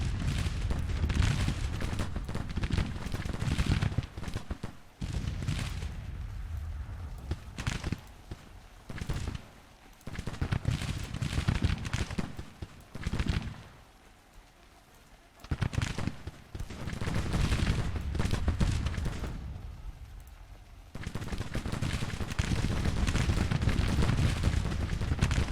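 Cannon blasts and rifle gunfire from a Civil War battle in the strategy game Grand Tactician, loud repeated booms and crackling volleys rolling on with brief lulls between bursts.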